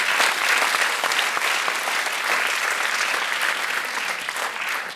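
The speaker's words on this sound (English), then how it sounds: "huge round of applause for being a leader at CRC" Steady, enthusiastic applause from a crowd at a college convocation, a dense patter of clapping that holds at full strength for several seconds.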